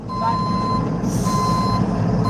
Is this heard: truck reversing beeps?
yes